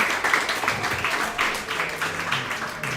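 A crowd claps for a grandmother at a girls' soccer gathering, with dense, irregular clapping that stays steady throughout and is close enough to hear individual hands.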